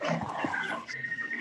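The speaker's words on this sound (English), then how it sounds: "Dog bark?" A dog gives a short burst of whimpering, yipping barks, fairly close and moderately loud, lasting just over a second.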